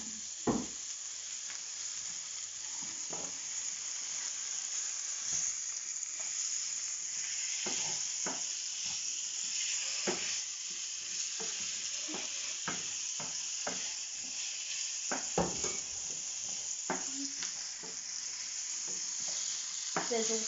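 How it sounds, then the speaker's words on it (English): Steady close-up sizzling of food frying in hot oil, with constant crackle and scattered pops throughout. "Sizzle, sizzle."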